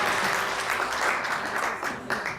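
Audience applause at a literary gathering celebrating a writer's life and works, a steady burst of clapping from a seated crowd filling the whole short moment with no voices.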